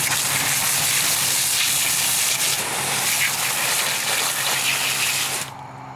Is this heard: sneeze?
no